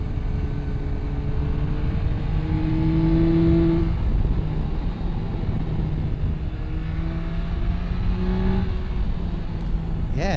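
A Yamaha Tracer 9 GT motorcycle ridden through bends, its engine note rising and falling with gear and throttle changes under steady wind rush. The sound is fairly loud and continuous.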